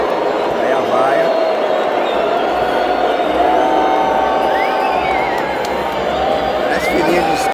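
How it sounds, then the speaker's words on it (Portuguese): A stadium crowd at a Brasileirão football match, Flamengo against Bahia, boos as Bahia takes the field: a loud, continuous roar of many voices with whistles rising over it. "Aí a vaia."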